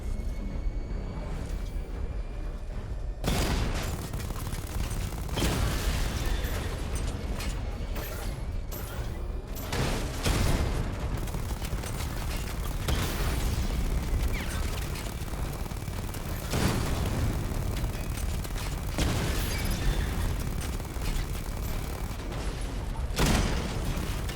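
Missile barrage fire in Batman: Arkham Knight, a steady loud mechanical roar broken by repeated sharp booms and launches at irregular intervals across the whole stretch, close and dense throughout.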